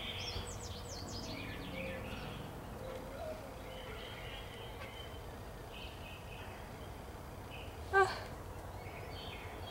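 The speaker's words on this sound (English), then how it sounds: "There's so many birds in my backyard." Small birds cheep and chirp in a backyard, faint and scattered over steady outdoor background hiss, with one brief louder call near the end.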